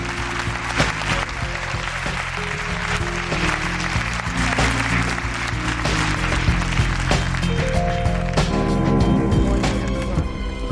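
Studio audience applause rises as a dense wash of claps, with low sustained music tones running underneath and growing more prominent toward the end.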